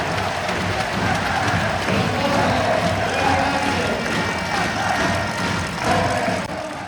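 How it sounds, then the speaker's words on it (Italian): A crowd claps and cheers continuously in a large venue, a dense steady wash of applause. "Un bagno di applausi meritatissimi per Santarelli"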